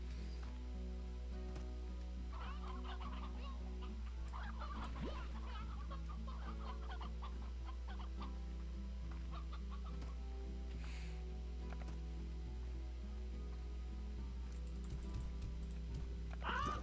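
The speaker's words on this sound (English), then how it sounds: "These roosters are all roughly the same age" Roosters in the farming game Stardew Valley cluck in scattered bursts over a steady low hum, faint and intermittent, with occasional keyboard tapping mixed in.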